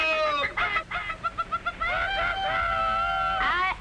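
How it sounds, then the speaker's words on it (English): Chickens cluck in quick, evenly spaced bursts, then a rooster gives a drawn-out crow in a 1951 film scene, loud and close, with no talk over it. "Cock-a-doodle-doo."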